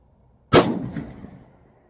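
A single sharp rifle shot from a .308 Remington 700 firing Hornady 178-grain AMAX handloads cracks close and loud, then rolls off in a brief fading echo.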